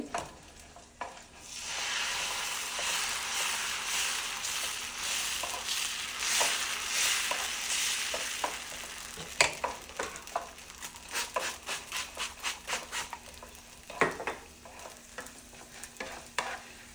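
Dosa batter sizzles on a hot pan, a steady frying hiss broken by repeated scraping and clinking of a utensil.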